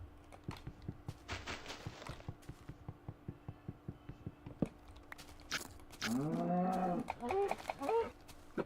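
Cows in the blocky Minecraft game give a loud, close drawn-out moo near the end, after a stretch of steady rhythmic footstep and chewing-like clicks.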